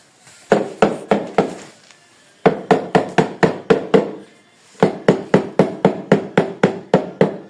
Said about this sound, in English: so I'll get this first tile from the wall.